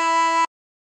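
A single short blown note from hole two of a chromatic harmonica, steady and bright for about half a second before cutting off cleanly into silence.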